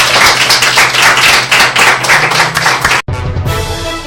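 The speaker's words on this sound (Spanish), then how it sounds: "Fuertes aplausos para nuestro invitado aquí en Maya Televisión" A television studio audience on a Honduran evening talk show claps loudly in a quick, steady rhythm for a guest. The clapping cuts off abruptly after about three seconds, followed by a brief different tone.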